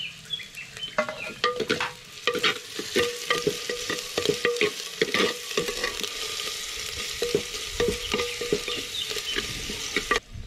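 Okra drops into a pan on a wood-fired stove and is stirred through, giving steady close sizzling with dense scraping and clattering stirs that run without pause.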